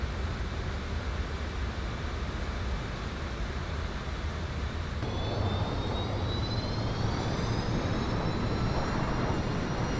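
The Just Flight F100 jet airliner in Microsoft Flight Simulator gives a continuous loud engine roar with broadband rushing noise. Partway through, the tone shifts as a rising high whine emerges, with no talking.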